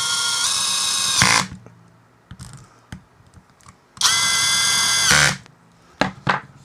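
A power tool drives metal screws on a DCA ASA125 machine in two loud whirring bursts of about a second each, close up, with short clicks and handling knocks between them.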